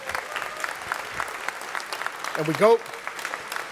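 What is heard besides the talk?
audience applause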